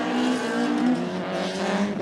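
Toyota KE70 drift car, the lowest-powered entry at a D1GP Malaysia drift event, revving hard under throttle with a steady loud engine drone and tire squeal running throughout.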